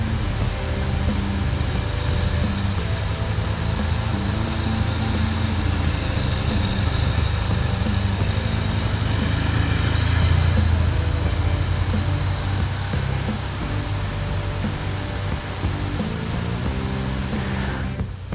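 A motorcycle engine runs steadily under throttle as the bike is flipped quickly from side to side in a lean drill, a loud continuous mid-low drone with slight rises and dips in revs and no talking.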